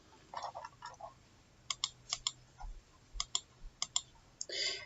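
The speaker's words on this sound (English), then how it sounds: "sorry if you hear the clicking" Computer mouse or keyboard clicks, sharp isolated clicks in small clusters, close and fairly quiet, with no talk.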